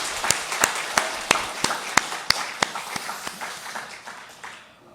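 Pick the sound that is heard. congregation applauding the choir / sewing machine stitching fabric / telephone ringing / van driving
congregation applauding the choir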